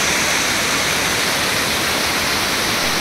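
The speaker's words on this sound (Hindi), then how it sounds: "यहाँ जो वाटरफॉल्स जो है, इधर जो पानी जा रहा है इसका नज़ारा है" Banjhakri waterfall in Gangtok, Sikkim, gives a loud, steady roar of rushing water, close and unbroken from start to finish.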